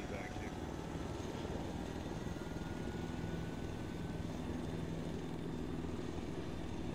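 Helicopter rotor and engine drone in a military video game set in a Tanoa invasion mission, a steady continuous whir filling the whole stretch, fairly close, with radio chatter and voices around it.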